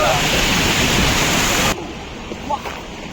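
Water thunders down at Hogenakkal waterfall in a loud, continuous broadband roar that drops abruptly partway through to a much quieter rush, with faint voices briefly surfacing near the end.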